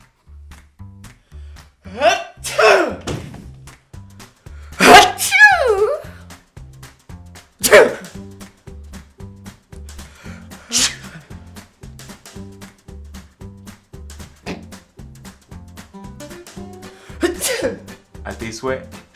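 A person sneezes sharply on a French-language comedy sketch set, a short explosive burst standing out amid scattered talk and other vocal noises over a steady pulsing low background.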